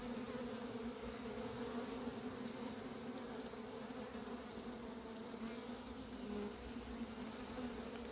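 A honeybee colony buzzes steadily while being hived into a new box, a continuous close drone of many bees with no talking.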